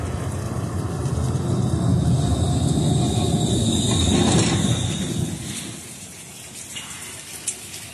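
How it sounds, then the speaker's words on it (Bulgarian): A tram of route 5 runs at the Knyazhevo terminus in Sofia, a loud, close rumble of wheels on rail that swells and then eases away as the car passes, leaving quieter ambient noise. "Колко е хубаво тук да се чуе отново звук от трамвай."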